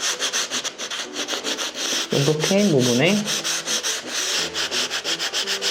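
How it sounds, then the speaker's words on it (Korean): Hand sanding a wooden baseboard with rolled sandpaper: quick rhythmic scratchy strokes, close and loud, pausing briefly while someone speaks, then resuming the steady back-and-forth rubbing. "그 모양을 따라서 이렇게 가볍게 사포질을 해줍니다"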